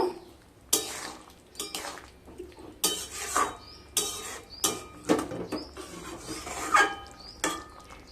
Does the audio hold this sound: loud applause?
no